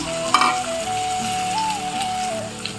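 Chopped onions sizzle in a hot pan for fried rice with chicken, a steady crackling fry with a brief stir clatter near the start and a faint tone in the background.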